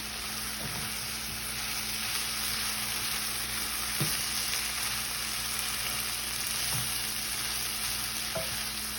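Flour cooking down in fat in a pot as the base of a gravy for homemade chicken pot pie, a steady close sizzle throughout with a few soft stirring knocks scattered over it.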